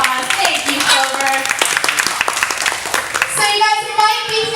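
A small group claps for Clover, a pet parrot, with sharp, separate hand claps close by. Bird-like whistles and chirpy tonal calls run through and over the clapping, with a brief voice near the end.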